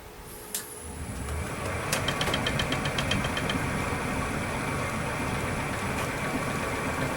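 A wood lathe spins a heavy, full-thickness wooden bowl blank at about 470 RPM, rising after a click into a steady, loud mechanical drone with a rhythmic thrumming underneath.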